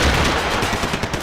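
Gunfire in the video game Max Payne 3 on hard difficulty: a dense, loud, continuous burst of shots filling the whole moment, with no speech over it.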